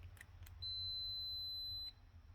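A Huskee lawn tractor sounds one thin, high electronic beep for about a second as the key is turned to the first position, faint against low background hum.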